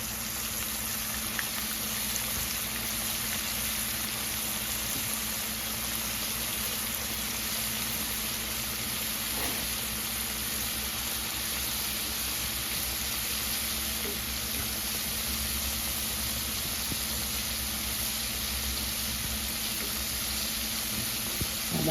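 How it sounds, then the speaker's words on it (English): Shrimp deep frying in a pot of hot grease, with a dense, steady bubbling sizzle that holds at an even loudness throughout and no voices. "That grease is ready. We're going to go right into it. Look at that. Deep fried shrimp"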